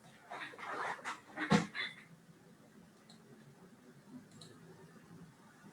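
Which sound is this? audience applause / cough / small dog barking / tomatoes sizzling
small dog barking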